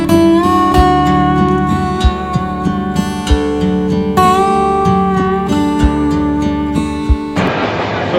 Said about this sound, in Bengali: আমাদের ট্রেনটা এয়ারপোর্ট মানে বিমানবন্দর স্টেশন থেকে ছেড়ে দিচ্ছে